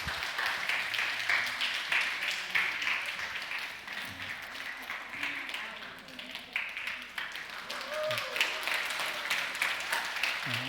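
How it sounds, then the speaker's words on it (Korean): Church congregation in a sanctuary giving a sustained round of applause and encouragement, dense steady clapping filling the room with some voices mixed in. "앞으로 나오실 때 우리 박수와 격려의 박수하도록 하겠습니다."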